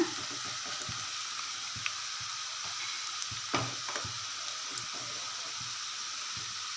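Herbal hair oil bubbling and sizzling steadily in a pan on low simmer, a soft continuous hiss with scattered pops and light clicks, no voices.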